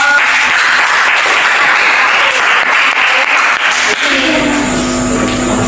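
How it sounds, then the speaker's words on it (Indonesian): Loud applause from a classroom audience for a presenting student group, a dense wash of clapping that thins toward the end as a steady tonal hum emerges. "Kalau tidak ada berarti berikan aplaus untuk kelompok"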